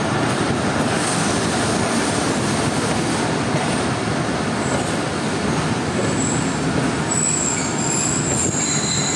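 The 39UP Jaffar Express approaches Khanewal Junction station in Pakistan, a loud continuous rumble of rail cars with wheels grinding and squealing on the track throughout, no voices.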